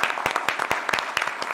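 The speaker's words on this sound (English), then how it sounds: "round of applause" Applause at a city council meeting, a moderate scatter of distinct hand claps from a small audience, brisk and continuous.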